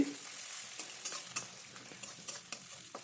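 Ginger, garlic and turmeric frying and being stirred in a pan for Telugu-style bachchali greens with toor dal, a steady close sizzle broken by repeated spoon scrapes and clinks, with no one speaking.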